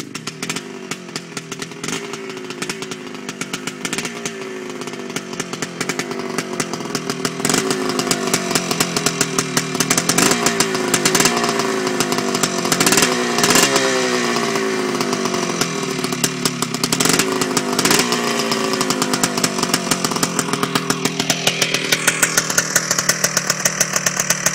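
A Husqvarna chainsaw engine runs loud and close for the whole stretch. Its whining two-stroke note rises and falls as the throttle is worked, with no talking over it.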